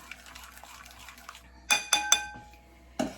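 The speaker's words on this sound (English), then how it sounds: "I just go back and whisk it up a little bit again just to make sure" A whisk beats tangerine cake batter in a bowl, heard as a few sharp metallic clinks against the bowl's side in a quick cluster, then one more clink after a short pause, over a quiet background.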